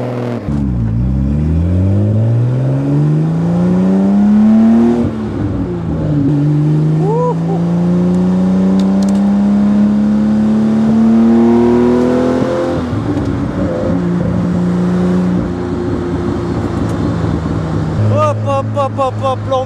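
A Jaguar C-Type race car engine revs hard through repeated rising gear pulls, loud and close, the pitch climbing, dropping at each shift and climbing again, with a voice talking over parts of it.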